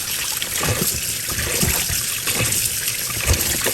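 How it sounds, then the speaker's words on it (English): Cool tap water streams steadily over meat and bones for Phnom Penh noodle soup, a continuous near trickle and splash with rising and falling gushes, no talking. "And I'm gonna go rinse it out with cool water before we toss the bones into the soup."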